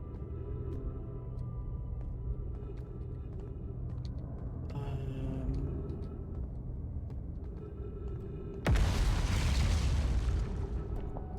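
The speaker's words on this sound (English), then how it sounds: "The explosions are not helping my nerves." Explosions in the Outer Wilds video game: a long low rumbling drone, then a sudden loud, broad blast that keeps roaring for the last few seconds.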